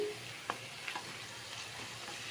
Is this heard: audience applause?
no